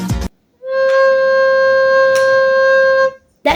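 A recorder plays a soft, pure C, held steadily for about two and a half seconds with slight breath variation, framed by brief noises before and after.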